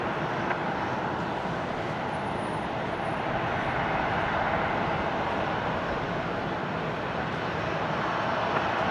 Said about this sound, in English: Wave to the rest 737 about to taxi out down behind